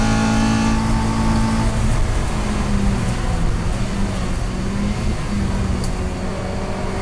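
A race car on new 13 inch wheels laps Thruxton circuit, its engine droning steadily and loudly with a faint pitch change, heard from on board with no talk.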